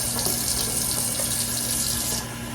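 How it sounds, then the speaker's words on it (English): Tap water running into flour and soup mix while cooking turkey wings, a steady close splashing stream that eases off slightly near the end, with no voices. "I'm just putting water in this flour"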